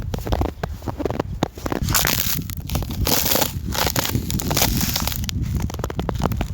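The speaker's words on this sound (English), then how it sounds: "the sound of the snow and frozen puddle as well" Steady, close crunching and crackling, like boots pressing through crisp snow and brittle ice, continuous with no voices.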